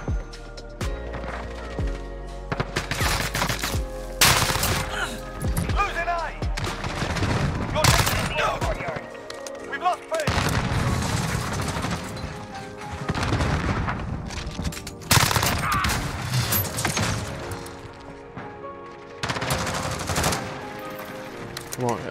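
Sustained, dense automatic gunfire from a Fennec submachine gun in Modern Warfare, loud and close. Bursts rattle on and off with short pauses, and talk is faintly mixed in.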